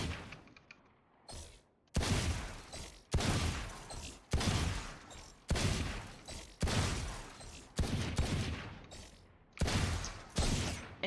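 Rapid gunshots from Valorant practice against bots, a sharp loud crack roughly every second with short decaying tails, repeated about ten times with no talk.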